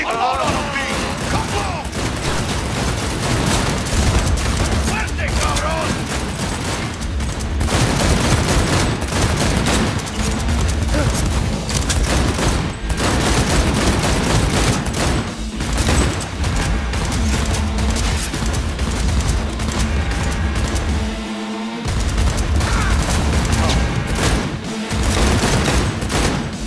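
Dense gunfire in the video game Cyberpunk 2077: rapid bursts of automatic shots and booming blasts that keep going for almost half a minute, loud and close, with a brief lull near the end.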